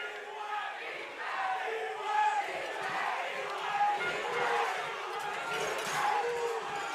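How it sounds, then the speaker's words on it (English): Peel fans cheer and chant for their defence at an under-14 youth football championship, a crowd of voices rising and falling in rhythmic waves from the stands. "And the Peele faithful cheering on the D What chants"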